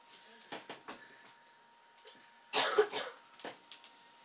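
A brief burst of coughing, one harsh cough with a rough follow-up, amid quiet rustling and faint background sounds, recorded close by.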